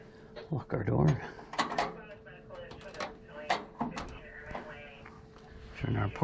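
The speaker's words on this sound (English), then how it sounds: "Lock our door." A house door is locked with a handful of close, sharp clicks and clunks from the latch and bolt, spread unevenly over several seconds, with a person talking nearby.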